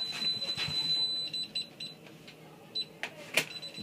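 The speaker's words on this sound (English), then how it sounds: "The alarm's going off." A home alarm system beeps in a room with high, steady electronic tones and short repeated bleeps, fairly loud and alone, with one sharper spike near the end.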